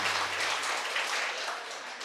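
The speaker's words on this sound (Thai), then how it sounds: "ขอเสียงปรบมือด้วยค่ะ" Applause from guests at a Thai wedding ceremony in a hotel, a short burst of steady clapping that fades slightly toward the end.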